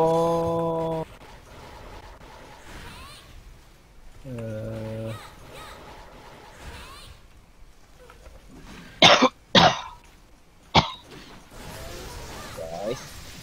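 A person coughs in sharp, explosive bursts, several harsh coughs clustered near the end, amid game music and sound effects from a multiplayer Monster Hunter Freedom Unite session.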